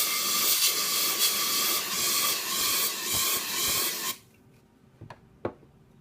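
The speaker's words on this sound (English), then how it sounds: "Follow the alcohol spray by a dust aerosol to remove any residue." A can of dust aerosol sprays around the sensor of a machine to clear cleaning residue, making a strong pulsing hiss for about four seconds before cutting off, followed by a couple of faint clicks.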